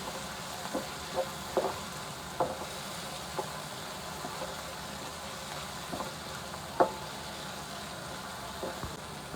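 Chickpeas frying in a pan make a faint, continuous sizzle with occasional sharp crackles and pops scattered throughout.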